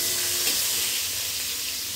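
Potatoes fry in a pan after being stirred, producing a continuous close, even sizzle and hiss with no voices.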